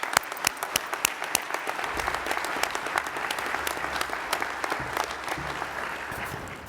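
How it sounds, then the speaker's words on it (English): Steady applause from an audience at an awards ceremony, dense clapping with a few sharper claps standing out, continuous for several seconds. "can y'all just give me a big round of applause for them?"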